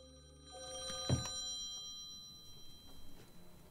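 An old-style telephone bell rings in the video game Conway: Disappearance at Dahlia View, a sustained metallic ring with a brief clatter, fairly faint and alone.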